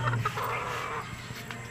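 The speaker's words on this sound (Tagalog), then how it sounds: "Ang mga alaga ni Tutoy na manok." Pet chickens cluck briefly at a house, faint and somewhat buried in background noise.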